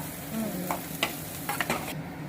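Crumbled idli upma is stirred in a pan over a steady, moderate sizzle, with several scraping strokes of a spoon close by.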